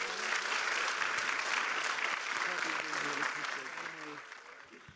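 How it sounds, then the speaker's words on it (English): A crowd at a university event applauds the governor, dense and sustained clapping that stays full and then slowly fades near the end, with voices mixed in. "Join me in giving a warm Blue Raider, true blue, round of applause to our great governor."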